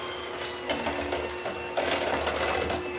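An electric mixer whirs steadily through paleo sugar cookie dough, with a constant motor hum. Louder bursts of churning and clatter come and go as the beaters work, and no one speaks.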